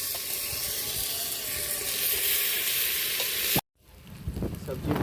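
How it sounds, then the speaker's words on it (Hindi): Marinated paneer and vegetables sizzle loudly in hot oil with cumin, red chilli and black pepper in a handi for paneer tikka biryani, a steady frying hiss that cuts out briefly and then resumes with stirring. "अब उसमें हम डालेंगे मैरिनेटेड किया हुआ अपना सब्जी"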